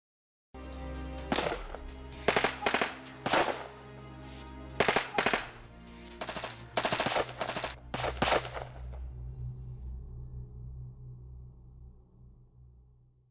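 Gunfire in a security guard training scenario: a rapid series of loud, close shots in bursts and single cracks, with a low rumbling background that lingers and fades after the firing stops.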